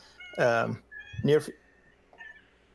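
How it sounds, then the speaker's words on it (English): A cat in a room lets out two drawn-out meows close by, the second rising and wavering, followed by a fainter short call, with a person's voice briefly heard near the end. "That was a cat."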